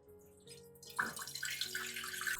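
Shallot-infused water, cooled and strained of its residue, pours and splashes softly through a filter, starting with a faint trickle and then flowing in a steady, gurgling stream close by.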